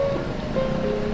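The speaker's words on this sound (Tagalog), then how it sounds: "Tuloy-tuloy po yung agos ng tubig" Floodwater runs as a continuous rushing current after a typhoon in Laurel, heard as a steady broadband wash with a little wind on the microphone.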